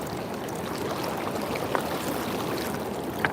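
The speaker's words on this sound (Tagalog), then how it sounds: "Ang lakas ng tubig guys." A strong river current rushes steadily during a night fishing outing, a dense continuous wash of water with no breaks, fairly close and even in level, with a couple of faint splashes.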